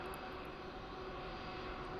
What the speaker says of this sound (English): Hope that background noise is not too loud there, that airplane.